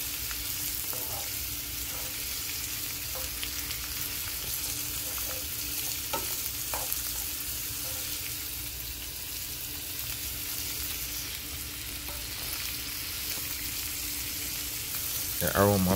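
Onion, garlic and sweet pepper fry in a pan with a steady soft sizzle, while a utensil stirs and taps now and then; a short scraping sound comes right at the end.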